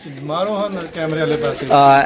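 Pigeons coo close by in low, throaty rolling calls, repeated several times in quick succession.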